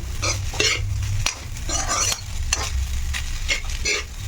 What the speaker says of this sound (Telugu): కాసేపు చక్కగా ఫ్రై అయ్యేటట్టు అలాగా వేపుకోవాలి